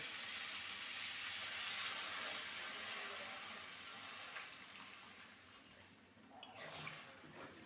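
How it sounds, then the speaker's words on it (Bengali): Warm water is poured into a pan of spiced winter vegetables for a fish curry, producing a soft, faint steady hiss with a brief louder gush and sizzle near the end. "এবারে দিয়ে দেবো পরিমাণ মতো উষ্ণ গরম জল"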